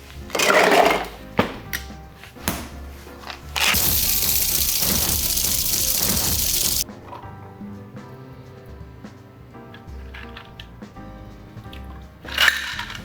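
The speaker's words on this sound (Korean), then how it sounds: "얼음 넣고 쉐킹" Ice, Irish cream and fresh cream rattling hard inside a cocktail shaker in one loud, steady burst of about three seconds, with clinks and handling noises before and after.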